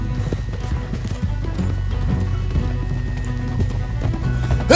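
Horse hooves clip-clop in a quick, steady rhythm in the video game Red Dead Redemption 2, loud and close, with a whinny rising among the hoofbeats and no talk over them.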